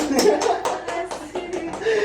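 Hand clapping during a casual talk-show conversation: several distinct, fairly close claps in a quick uneven rhythm, with voices talking around them.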